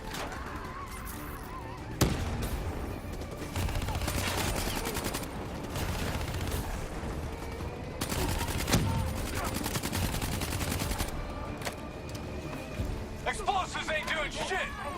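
Rocket fire and gunfire from a swarm launcher during a Call of Duty Black Ops 3 firefight, loud bursts and explosive blasts layered with shouted voices and battle noise throughout.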